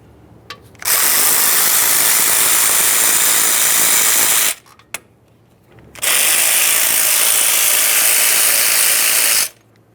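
Power ratchet spins out hub actuator bolts on a 2015-2020 Ford F-150 in two loud whirring bursts of about four seconds each, separated by a short quiet pause with a faint click.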